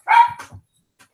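A single sharp dog bark, loud and close, followed by a short lower grunt, then silence in a quiet indoor room with no talking.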